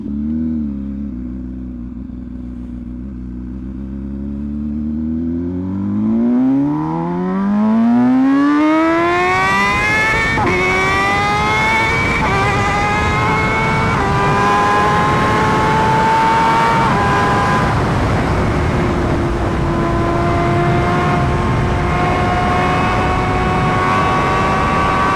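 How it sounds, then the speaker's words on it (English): An MV Agusta Brutale motorcycle with a new titanium exhaust accelerates hard, engine pitch climbing steeply through the gears into a loud, sustained high-revving wail, heard close with wind rush and no talk. "man, this bike sounds so crazy."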